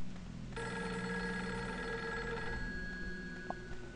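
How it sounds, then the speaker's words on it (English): Insistent ringing from a telephone in the survival horror game Fatal Frame 3, a continuous bright bell tone that comes in clearly after a brief hush and rings on steadily over a low, murky game ambience. "Sorry I'm making you put up with that incessant ringing."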